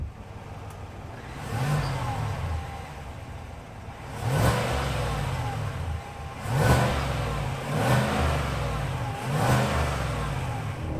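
A 2021 Cadillac Escalade with a 6.2 liter naturally aspirated V8 revving repeatedly, four or five rising surges close by, each swelling and falling back over a steady idle rumble.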